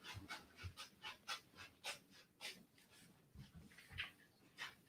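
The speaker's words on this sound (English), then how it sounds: "And we have a dog in the basement now." A dog pants in quick, rhythmic bursts somewhere near a soccer broadcast from a US men's national team match against Qatar at Q2 Stadium in Austin, the breaths fairly faint and steady with no talk over them.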